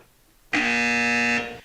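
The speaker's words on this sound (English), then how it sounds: "I was waiting for the buzzer." A single sustained electronic buzzer blares loud and steady for almost a second, starting abruptly after a quiet lead-in and cutting off cleanly, with no talk over it.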